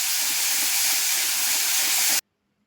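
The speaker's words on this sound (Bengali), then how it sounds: "আদা রসুন বাটা, কাঁচা লঙ্কা বাটা দিয়ে মশলা ভালো করে কষিয়ে নিচ্ছি" Ground spices, onion and ginger-garlic paste with green chilli paste sizzle in a pan for a Bengali baim fish curry, a loud, steady close hiss that cuts off abruptly into silence.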